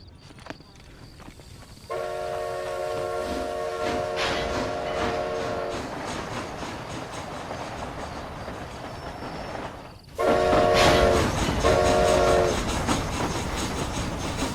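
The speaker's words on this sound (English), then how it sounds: "Is this train headed for Mexico?" A train rolls steadily along the tracks in the Red Dead Redemption Undead Nightmare game, its long horn blowing twice over a continuous rumble and clatter.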